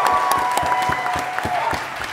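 Audience at a live comedy podcast taping in San Francisco applauds in a steady roar, with individual sharp claps standing out near the front and a sustained whistle or cheer riding over the crowd.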